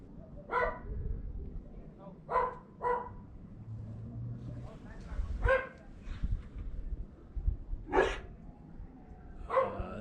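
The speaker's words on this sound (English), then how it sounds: "That's a dog." A dog in the streets of Cusco, Peru barks in short separate yips, about six or seven scattered over several seconds, moderately distant, over faint outdoor background and occasional low voices.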